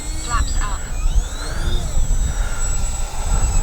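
A Flightline OV-10 radio-controlled model plane flies over a grassy field, its electric motor making a steady whine with rising and falling tones as it passes, under continuous wind and outdoor noise.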